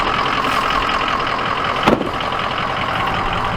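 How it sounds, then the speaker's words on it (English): A Ford Excursion's diesel engine idles loudly and close with a steady, even rumble, broken by one brief clunk midway. "There's the Excursion."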